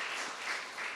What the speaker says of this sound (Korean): 우리 그 모든 분들을 축복하는 의미로 박수 한번 하겠습니다.